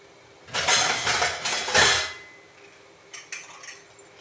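The metal lid of a pressure cooker is fitted and closed on the pot, making a short run of close, loud metallic clanks and rattles, followed by a few lighter clicks.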